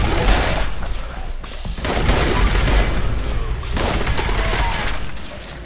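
Rapid bursts of explosive gunfire from a quad explosive weapon in Fallout 76, fired indoors, a loud dense rattle of booming shots with one short break, close and without talk.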